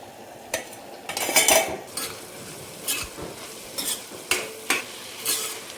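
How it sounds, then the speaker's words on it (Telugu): Ponnaganti greens being stirred in a pan after the lid comes off, with a series of separate scraping strokes spaced irregularly, moderately close, plus a faint sizzle underneath. "ఇప్పుడు మూత ఓపెన్ చేసుకొని మధ్యలో ఒకసారి ఇదంతా ఇలా కలుపుకోవాలి"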